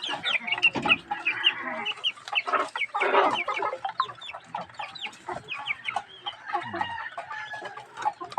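A hen and her four chicks cluck and peep nonstop at close range, a busy mix of low clucks and high chirps from the farmyard.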